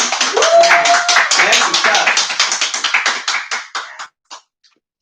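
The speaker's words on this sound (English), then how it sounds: "So for you, we're going to clap again." Audience clapping at a weekly discussion meeting, a loud dense burst of many hands that thins into scattered claps and dies out after about four seconds, with a brief voice at the start.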